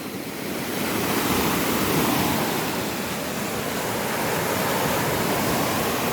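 Waves break and wash steadily along a Lake Michigan beach, a broad constant roar of surf with a gentle swell in loudness, no voices.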